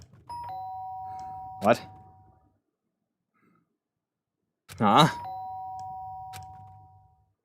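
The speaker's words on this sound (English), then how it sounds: "The sharp sound of the doorbell pierced my sleepy haze and pulled me back into the real world" The doorbell in the video game Danganronpa: Trigger Happy Havoc rings twice, each time a clear, ringing chime. The two rings are several seconds apart, with brief spoken reactions between them.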